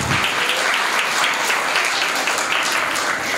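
An audience at a school's children's celebration event applauds, dense steady clapping from many hands filling the room, loud and sustained for the whole stretch without any talking over it.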